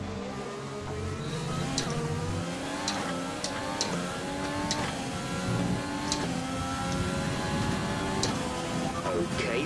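Race cars in a racing video game accelerate back up to speed, several engines revving and climbing in pitch together, with rising and overlapping whines, continuous and fairly close.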